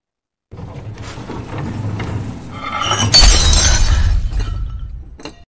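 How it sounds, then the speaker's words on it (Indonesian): Items vibrating off a table crash to the floor, with glass shattering loudly in a sharp burst of breaking and scattering shards after a rising clatter, and no voices. "sebagian alat-alat yang ada di meja tiba-tiba bergetar dan mengakibatkan barang-barang yang ada di meja semuanya berjatuhan"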